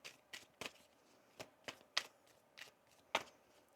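Sharp intermittent snaps and riffles of tarot cards being shuffled up close, about eight irregular bursts separated by quiet pauses.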